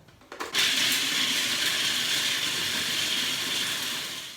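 Blender grinding whole almonds into coarse almond meal, starting with a few short pulses before settling into a loud, steady, whirring roar that runs without pause and tapers slightly near the end.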